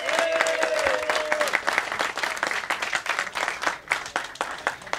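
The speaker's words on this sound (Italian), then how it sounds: "qui voglio un grande applauso" An audience applauds the new president at the Riccione Calcio 2018–19 football club team presentation, a lively round of clapping with a brief tone and some murmuring at the start, thinning slightly toward the end.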